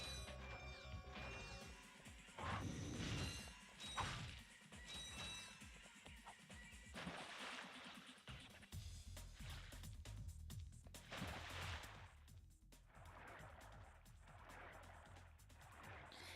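Crates shot and smashed in the original Ratchet and Clank make a series of sharp crashing breaks and thwacks at irregular intervals, fairly quiet overall, with mechanical game sounds between them.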